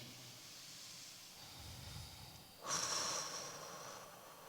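A congregation at an Erev Shabbat service draws a collective deep breath in, a soft hissing inhale swelling briefly and fading, faint within a quiet room.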